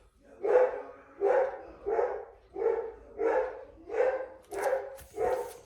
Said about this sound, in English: Of course, my dogs have to act up